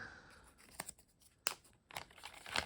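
Packaging for a Surface Duo 2 phone is peeled and unwrapped in a few quiet, sharp tearing and crinkling bursts spaced across a short stretch, close but soft.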